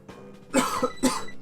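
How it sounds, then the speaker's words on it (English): Two or three harsh coughs in close succession, nearby and fairly loud, with no talking around them. "My cough isn't going away."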